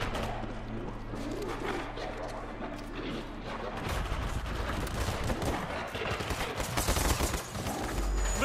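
Gunfire rattles in the World War Z video game, dense bursts of automatic shots and crashes piling up loud and continuous, with game sounds and shouted voices mixed in.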